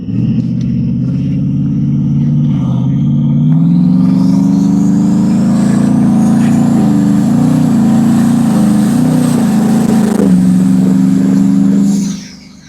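Twin-turbo Shelby F-150 V8 pulling at part throttle around 40 mph with the exhaust cutout open, giving a loud, continuous deep rumble whose pitch climbs and wavers before cutting off abruptly at the end.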